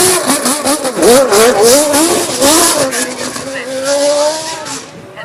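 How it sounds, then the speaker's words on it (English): A Camel Lotus Type 101 Formula 1 car pulls off the line at a historic racing event, its engine revving hard through rising and falling sweeps, loud and close, then settling into a steadier climbing note as it moves away. "Chunk of noise from the Lotus, the Camel Lotus Type 101 as it pulls off the line."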